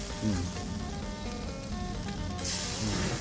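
Food sizzles steadily as it grills over an open fire, a continuous crackling hiss with a brighter surge of sizzle near the end and no talking.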